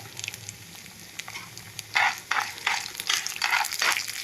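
Urad dal, mustard seeds and cumin crackle and sizzle in hot oil in a pan, a faint steady fry with brighter popping bursts building toward the end, no voices.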